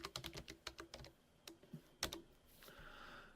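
Typing on a computer keyboard while entering a drive mount point: a quick run of sharp key clicks, then a few scattered taps and one louder keystroke, close and quiet, with no voices.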